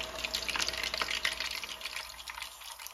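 Chicken kofta mince cooking slowly over low heat on a stove, a close, steady soft sizzle and crackle of small bubbling pops that thins out toward the end.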